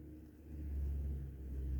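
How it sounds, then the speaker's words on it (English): A car approaching and driving up outside gives off a deep, truck-like engine rumble that swells and holds steady at moderate distance, with no talking over it. "I can hear my car, but it sounds like a truck."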